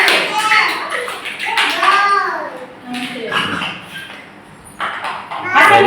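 Young children at an Anganwadi preschool clap their hands in scattered bursts, mixed with children's and adults' voices talking over the sharp, uneven claps.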